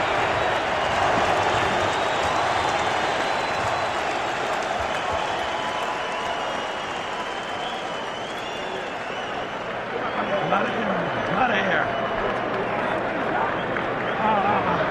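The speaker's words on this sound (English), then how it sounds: "we're seeing the results as the crowd chants Holyfield" Arena crowd at a Holyfield versus Tyson boxing match chanting Holyfield, a loud, sustained roar of many voices filling the whole stretch, with a commentator talking over it.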